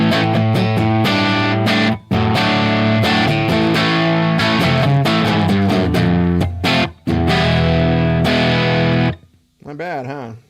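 Clean electric guitar played through a tube amp with echo and reverb switched off, a dry, steady strummed passage with sustained chords and brief gaps, ending in a short wavering note.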